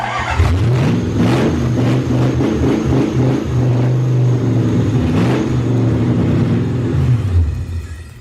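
A Lexus LS 400 engine, being rebuilt for drifting, runs loud and close on its first start, its rumble rising and falling as the throttle is blipped before it dies away at the end.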